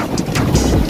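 Strong wind buffets the microphone on a crowded boat ride through choppy waves, a loud continuous roar with rushing water beneath it and no speech.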